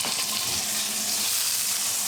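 A small chunk of butter hisses and sizzles in a hot crepe pan, a bright, steady, close frying crackle that stays at an even level throughout.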